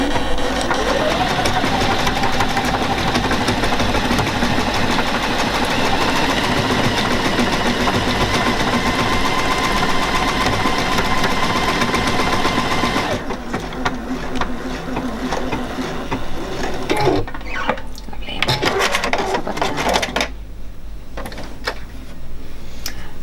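A Juki DX7 sewing machine stitches decorative lettering, a loud continuous mechanical whirring with rapid needle clatter that steadies, then turns into intermittent bursts and pauses in the final seconds.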